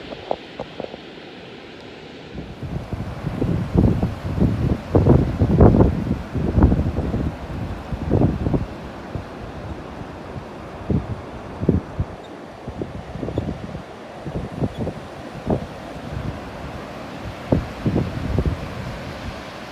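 Wind buffets the microphone at a beach while ocean waves break and wash in repeated surges, loud and close, with no talking.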